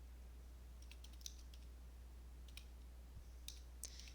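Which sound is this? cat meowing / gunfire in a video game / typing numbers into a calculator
typing numbers into a calculator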